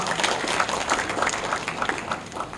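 An audience applauds at a book launch during a general meeting, a dense, even patter of many hands clapping that holds steady throughout.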